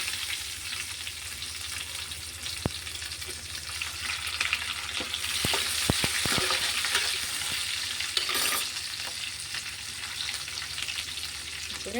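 Onion and green chillies frying in a pan, a steady soft sizzle running throughout with a few sharp clicks and scrapes of a spatula near the middle, close and without talk.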